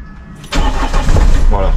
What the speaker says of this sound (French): Maintenant on va aller démarrer la voiture. Et vous allez voir qu'elle démarre sans problème.